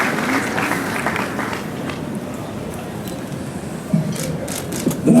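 Applause from the audience at a ceremony in Ljubljana marking the European Green Capital title: a steady, moderately loud wash of clapping throughout, with a couple of brief thumps near the end.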